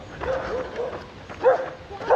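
A dog barks a few times outdoors along a walking loop near a neighborhood, the short bursts coming at moderate distance over a steady background hiss.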